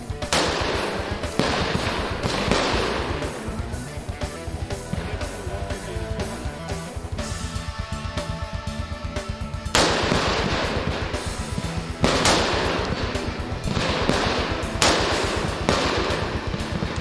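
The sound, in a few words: rifle gunfire during soldiers' marksmanship qualification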